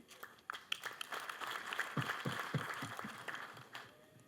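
Audience at a SACCO cooperative event applauding, scattered claps building into a steady moderate round of applause in a hall, fairly faint overall.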